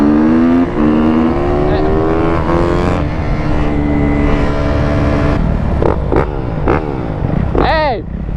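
A dirt bike engine, a 250 or 450, revs loudly at close range during an informal race, its pitch climbing and falling with throttle blips near the end, while people talk and shout over it throughout.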